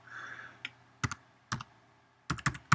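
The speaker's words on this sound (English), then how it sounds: "I have two keyboards and I keep typing on the wrong one." Sparse keyboard typing close by: a few isolated key clicks, then quick bursts of two or three keystrokes with short pauses between.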